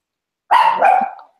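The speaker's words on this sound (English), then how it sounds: "oh sorry, that's the dog" A dog barks in a short, loud burst close by, a quick double bark that trails off, with no other sound around it.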